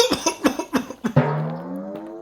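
A cartoon character coughs several times in a quick, harsh burst, then his voice trails off into a sustained tone, close and fairly loud.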